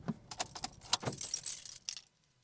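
Car keys jangle in several quick bursts at close range after a car is switched off, ending in near silence.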